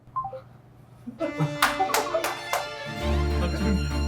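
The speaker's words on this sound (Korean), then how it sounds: "전화 오잖아." A phone ringtone for an incoming call, a tonal melodic ring with sharp repeated chimes, plays fairly loud indoors, preceded by a brief beep and followed by a low steady hum.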